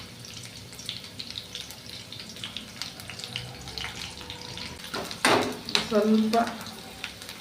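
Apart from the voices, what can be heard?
mustard seeds spluttering, onion and curry leaves frying in hot oil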